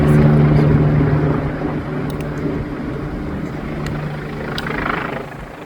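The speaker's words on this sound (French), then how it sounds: "l'hélicoptère était reparti, il est revenu au-dessus de la cascade" A helicopter hovers over a waterfall in the Alps, its steady rotor drone loud at first, then easing slightly while rushing water hisses underneath.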